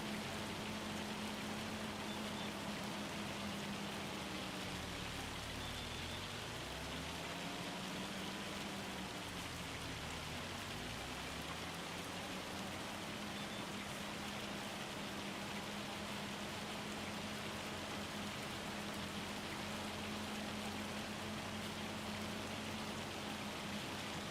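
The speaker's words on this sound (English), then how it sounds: "So the weather at the moment, that's hail coming down, which is why it sounds so heavy." Hail comes down heavily and without pause, a dense, steady hiss of countless impacts at even loudness throughout, joined for a few seconds by a faint, wavering low hum.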